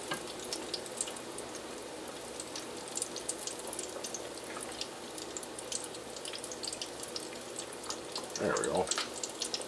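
Cornmeal doughnuts fry in hot fat with a steady bubbling crackle and scattered pops, and a voice speaks briefly near the end.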